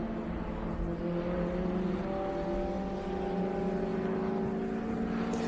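A 1988 Alfa Romeo Spider race car in the Group 8DP class at Watkins Glen, its engine a steady loud drone with sustained tonal whine throughout, alongside other engine noise and no speech.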